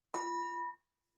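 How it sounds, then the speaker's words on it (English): A meditation bell is struck once, giving a clear ringing tone with bright overtones that holds briefly and then fades away into silence, with no voices. "we'll let the bell invite us into the first meditation"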